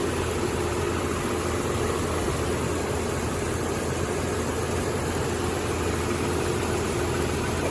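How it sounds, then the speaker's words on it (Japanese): Toyota Brevis car engine idling steadily, a smooth continuous mid-to-low hum with a broadband hiss, heard up close and alone for several seconds. "スムーズにつけ上がってくれてとてもいいエンジンだなと"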